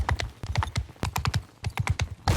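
A horse gallops in the medieval combat game Mount & Blade II: Bannerlord, its hooves hitting in quick, close, loud clusters of clip-clops with brief gaps between them.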